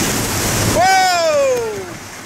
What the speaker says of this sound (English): Oh, here we go through some rapids.